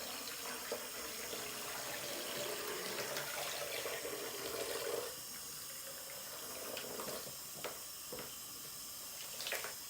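Water splashes and pours out steadily for several seconds, then trickles off into a few drips and light clatters.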